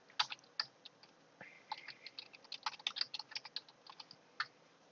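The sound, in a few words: typing on a computer keyboard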